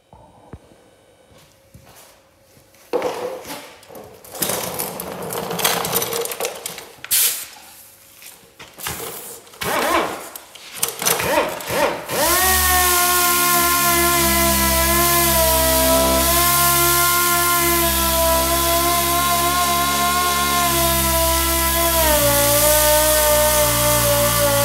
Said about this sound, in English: dual action sander. I've got a bit of 240 grit, which is red.